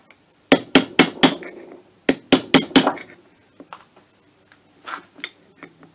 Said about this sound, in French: Un chasse-goupille, un marteau.